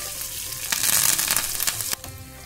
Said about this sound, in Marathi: जिरे छान तडतडले की जो आपण मिरची कट करून घेतली ती मिरची टाकून द्यायची आहे आणि कढीपत्ता आहे तो सुद्धा आपण आता ह्यामध्ये टाकून देणार आहोत.